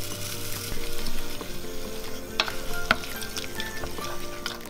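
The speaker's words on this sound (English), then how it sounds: "So we're going to stir this on a medium-low heat until it's slightly warm." Oats being stirred in a warm pan over medium-low heat for vegan apple, cinnamon and almond porridge: a low steady sizzle and gentle scraping, with a couple of sharper utensil clicks, close and unaccompanied by speech.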